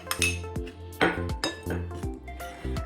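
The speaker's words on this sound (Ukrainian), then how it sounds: "Спочатку змішуємо сухі інгредієнти: сіль, розпушувач, імбир корицю і борошно" Dry ingredients for tea cookies (salt, baking powder, ginger, cinnamon and flour) stirred together in a bowl, heard as repeated ringing clinks of a utensil striking the bowl in an uneven rhythm, close and clear.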